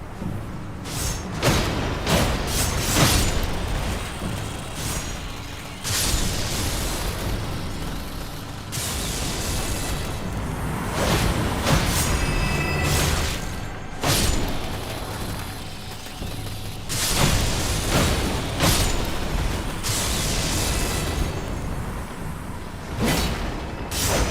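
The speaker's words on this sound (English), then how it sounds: "They make a bigger explosion." Loud, dense combat in the video game Elden Ring, with repeated booming explosions and heavy thuds running continuously over a roaring, rumbling background.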